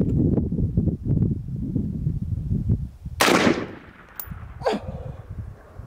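A 12 gauge shotgun loaded with buckshot fires once at a target outdoors, a sharp loud blast with a short decaying tail, followed by a fainter second crack; wind buffets the microphone before and after.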